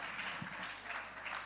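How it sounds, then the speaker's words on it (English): Faint, short round of audience applause at a conference session on democracy and the media, a soft steady patter of clapping heard from a distance. "A round of applause, ladies and gentlemen."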